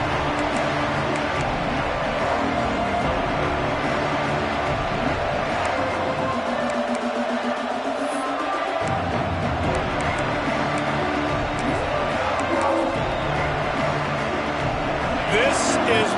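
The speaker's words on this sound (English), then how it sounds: "This crowd ready to make its presence known." Large football stadium crowd roaring in a steady, dense wash of noise throughout, swelling with cheers, while a commentator talks over it.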